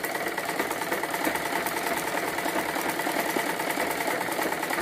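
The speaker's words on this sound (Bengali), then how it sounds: "এইরকম করে ঘুরিয়ে ডাবল করে সেলাই করে দিচ্ছি" A sewing machine stitches a bra-cut blouse up close, a steady fast mechanical whirring and rattle held at even loudness throughout.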